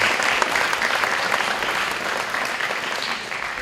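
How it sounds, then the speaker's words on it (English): Students at a youth star awards ceremony applaud their parents, a steady, dense round of clapping from a large crowd lasting several seconds, with little talk over it. "students, let's clap for your parents, please"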